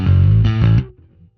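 A bass guitar played through a Sonicake Matribox II Pro multi-effects processor on its edge setting, a loud, buzzy distorted note sustaining for under a second, then cutting off into a faint, decaying tail.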